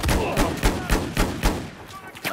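Rapid gunfire from a Battlefield 4 squad deathmatch on the Golmud map, a steady run of evenly spaced, loud shots with booming low end over about two seconds.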